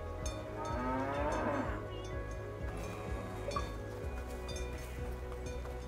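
A cow moos in the video game Dungeons of Hinterberg, a low drawn-out call against a steady ambient game soundscape with faint clinks, no talking.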